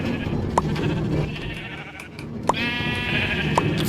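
Sheep in the Minecraft video game, a few short bleats heard over a busy background of game ambience and a faint tonal chime.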